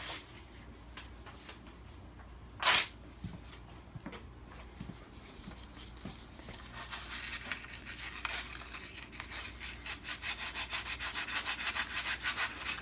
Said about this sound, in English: I'll take some sandpaper and clean that piece up